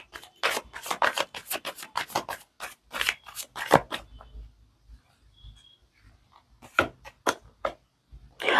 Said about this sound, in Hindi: मैं अभी और कुछ कार्ड्स निकाल रही हूँ